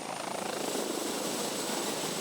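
A police helicopter flies steadily nearby, its engine and rotor making a continuous loud droning whine with a rapid rhythmic chop underneath and no pause.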